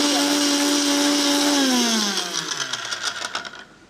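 A mixer grinder whirs loudly with a steady high hum while grinding garam masala powder in its jar, then winds down and sputters to a stop after about two seconds.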